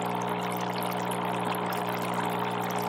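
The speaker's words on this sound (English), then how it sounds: "I like the bubbling action, and I can make it bubble more" HoMedics Bubble Spa Pro foot spa with heat boost runs with a steady low motor hum and continuous fizzy water bubbling, even and unbroken, close by with no talking.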